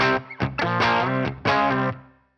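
Single-pickup electric guitar played through a compressed, saturated voicing that breaks up easily, ringing out in a few loud distorted chords and notes with sustained overtones before fading to silence.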